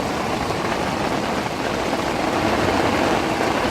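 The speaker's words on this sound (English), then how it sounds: "That's a lot of water coming out." Water gushes out of a rainwater storage tank overflow, a loud, continuous, close rushing and splashing with no break.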